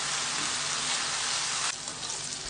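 Meat and onions frying with spices and black pepper in hot oil, a steady close sizzle that runs continuously and drops slightly in level partway through.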